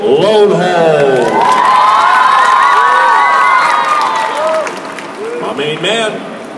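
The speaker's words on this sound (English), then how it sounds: "Can we have a Nickelodeon Universe round of applause, ladies and gentlemen, for Big Phil Loadholt?" A lively crowd at Nickelodeon Universe cheers, whoops and claps for Minnesota Vikings right tackle Phil Loadholt, with children's shouts and high voices riding over the applause.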